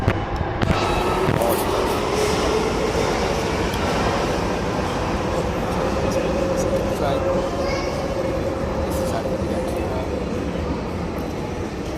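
A metro train pulls away with a continuous rumbling roar and a rising whine as it gathers speed, steady and loud throughout.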